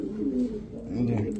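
An Afsan grizzle racing pigeon coos close by in a low, throaty, rolling voice, steady across a short burst.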